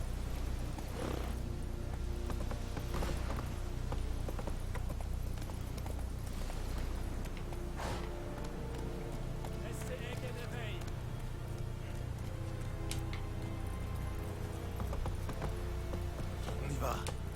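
Horse hooves clip-clop at a steady trot in The Witcher 3 video game, a rhythmic drumming underneath game music and ambience while someone talks over it.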